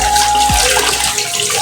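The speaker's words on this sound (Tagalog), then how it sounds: "Kailangan hugasan na yung chicken." Tap water runs in a steady, close splash while raw chicken is washed, with one soft low thump early on.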